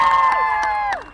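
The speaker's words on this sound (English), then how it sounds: "Give her a big round of applause." A county fair crowd cheers, shouts and applauds at a pig-racing show, a loud, steady wall of excited voices with high-pitched yells rising above it for a moment before it starts to fade.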